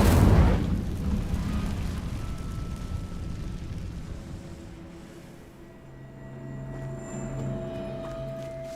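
The Incendio fire spell is cast in Hogwarts Legacy, opening with a loud burst of fiery blast that fades into a lingering crackling roar and low rumble, with no voices.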